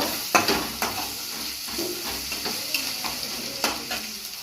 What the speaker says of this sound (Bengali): এলাচ দারুচিনির গুঁড়ো ভালো করে নেড়ে চেড়ে নেব